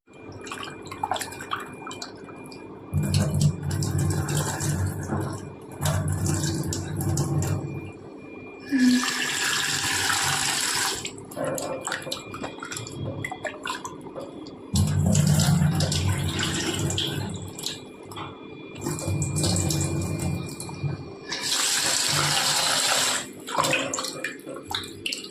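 Mutton pieces being washed with turmeric and salt under a running tap, with bursts of water splashing and gushing into a sink between quieter dripping and handling.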